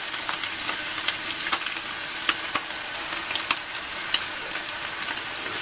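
Mushrooms sautéing in a hot pan, a steady loud sizzle with crackles and occasional sharp pops and stirring clatter, alone with no talking.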